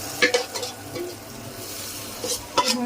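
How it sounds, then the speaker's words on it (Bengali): Crushed garlic and chili being fried in oil for a tempering, with stirring scrapes and light sizzling in a few short bursts, close and fairly quiet. "রসুনটা মরিচটা একটু ভেজে নিলাম, রসুন থেতো করে দিয়েছি।"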